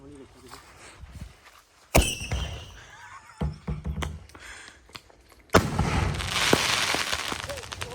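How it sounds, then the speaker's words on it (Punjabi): Sharp firecracker bangs burst out at intervals, followed by a sustained crackling barrage of rapid pops, with faint voices underneath. "ਪਟਾਕੇ ਚੱਲ ਗਏ ਨੇ"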